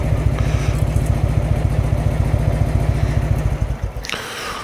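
A motorcycle idles close by at a local motorcycle shop, a loud rapid chugging pulse that holds steady and then cuts off near the end, leaving quieter background sound.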